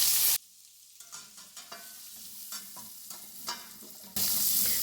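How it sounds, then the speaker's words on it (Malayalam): Onions dropped into hot oil left from frying chicken, a soft crackling sizzle broken by spatula stirring taps, framed by brief louder bursts at the start and end. "ഈ സെയിം പാനിലേക്ക് തന്നെ ഫ്രൈ ചെയ്തെടുക്കാനുള്ള സവോള ചേർത്ത് കൊടുക്കാം"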